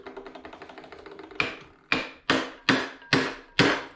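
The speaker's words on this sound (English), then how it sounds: "you tap it in there with a hammer real lightly" A hammer taps lightly on a screwdriver wedged between a flywheel and the engine case of a Goped Big Foot scooter engine. Quick faint ticks come first, then six sharp metallic knocks at a steady pace, close up with no talking.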